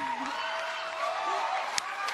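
Crowd noise and cheering from a live audience at a televised singing competition stage show, a steady roar with whoops, and a host's voice over it.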